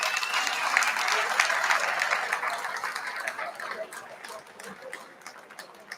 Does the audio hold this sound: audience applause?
yes